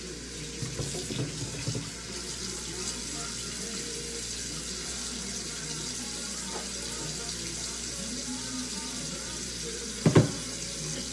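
Kitchen tap running steadily into a sink while meat is washed, a close continuous splash with faint clatter and a brief knock near the end.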